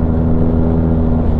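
Loud, steady engine drone and road rumble from cars on a wet, winding mountain road on the Mae Hong Son Loop, heard close up without any talk.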